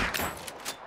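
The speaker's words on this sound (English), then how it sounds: "I'll just pop him with my rifle" A rifle fired in the video game Hunt: Showdown, heard as a brief burst of sharp cracks over a steady background, fairly quiet and close, with no talking.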